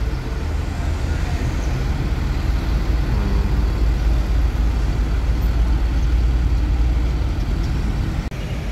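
A Volvo B11R 450HP Al Hijrah tronton coach drives along a road, giving a continuous deep engine rumble with broad road and tyre noise that holds steady throughout.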